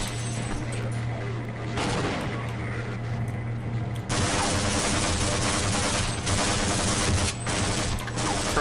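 Rapid gunfire crackles through a Half-Life firefight on PC, with dense bursts of shots and heavy impacts layered over game noise, loud and sustained, growing more intense in the second half.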